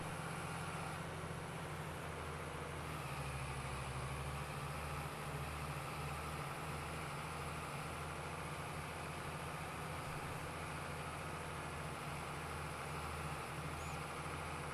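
An old tractor idles in Farming Simulator 22, a low, steady engine drone that runs unbroken at an even level the whole time with no voices.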